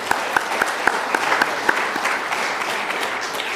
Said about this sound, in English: Let's give David a round of applause for his music.